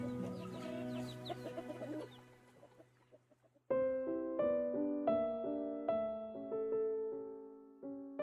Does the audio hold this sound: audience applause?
no